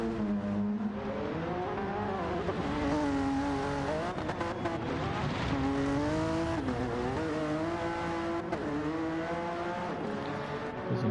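A Honda NSX rally car in Sega Rally livery races through a video game rally stage, its engine loud and close with rising and falling revs through gear changes, the tyres squealing and skidding as it goes.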